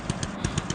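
Motorcycle engine in the Happy Wheels video game, a short idling putter with rhythmic pulses about every tenth of a second, fairly close and steady.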